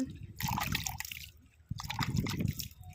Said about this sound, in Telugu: కొంచెం అయితే వాటర్ చల్లుదాం దీని మీద